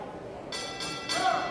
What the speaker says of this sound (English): the first round has come to its conclusion. So the bell sounds.